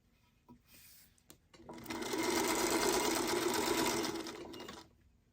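A sewing machine stitches quilt block pieces together, starting with a few clicks and brief whirs, then running in one steady, close, continuous buzz for about three seconds before stopping.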